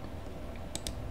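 A computer keyboard gives two quick, soft clicks close together against a quiet room hum, as if keys are pressed to copy text.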